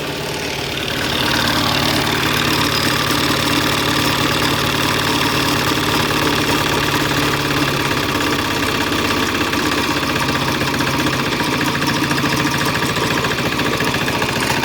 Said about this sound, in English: Well, it is running. I can idle it right down.